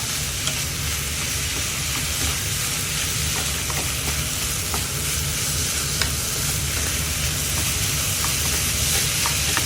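Fried rice stir-frying in sauce in a pan, a loud dense sizzle and hiss with constant scraping and tossing, close and unbroken for the whole stretch, no talking.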